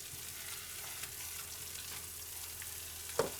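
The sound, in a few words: onions frying in a pan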